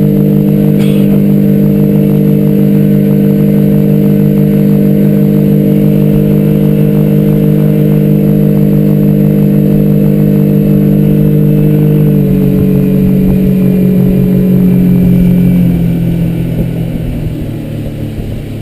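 A 50 horsepower outboard engine on a 2003 Alumaweld Stryker 15-foot aluminum boat runs at a steady, loud idle with a constant low hum, easing off slightly near the end.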